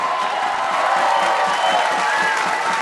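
A large crowd of students at a political rally cheering and applauding continuously, a broad roaring wash of claps and shouts with no break.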